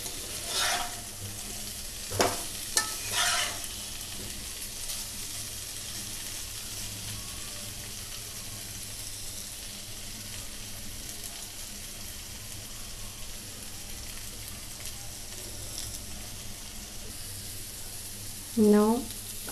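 Mutton keema balls roasting dry in a pan, a soft even sizzle held for the whole stretch, broken by a couple of sharp clanks early and a short squeaky scrape near the end.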